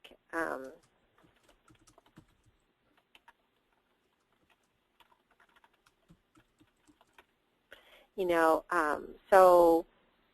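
Computer keyboard typing into PowerPoint, a string of soft, sparse, irregular key clicks heard close and quiet between stretches of someone talking at the start and end.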